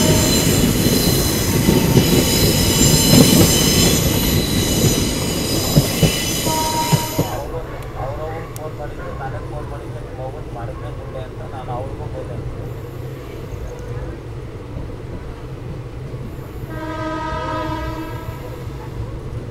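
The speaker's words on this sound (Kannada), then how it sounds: "Night queen train." Night Queen train on the SMVT Bengaluru–Mysuru route running close by, loud rumble and wheel squeal, then rhythmic clacking and a horn blast, with talk heard partway through.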